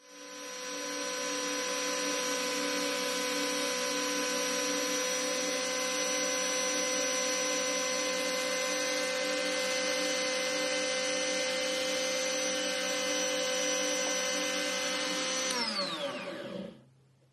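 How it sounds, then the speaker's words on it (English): A rotary tool whines at a steady high pitch as a yellow polishing disc smooths an old bur into a burnisher, running loudly and evenly for about fifteen seconds before spinning down. "we are going to smooth it out further with the yellow disc"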